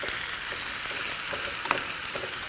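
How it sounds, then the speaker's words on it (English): Carrots sautéing in a spicy honey glaze in a pan, a continuous even sizzle up close with light scraping stirs and one sharper clack near the end, no talking. "Now saute your carrots in the spicy glaze"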